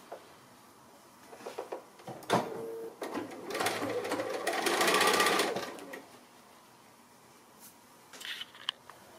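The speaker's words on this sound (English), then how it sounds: "I'll go ahead and sew this side" A sewing machine stitches the seam of a triangle pin and clip cushion in a few start-and-stop runs, with the longest steady whir in the middle and brief handling clicks around it.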